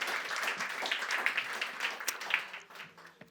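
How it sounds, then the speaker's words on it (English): An audience applauds an expert panel at a World Health Assembly side event on obesity and cardiovascular disease, moderate clapping that thins out and fades toward the end. "please give them a round of applause"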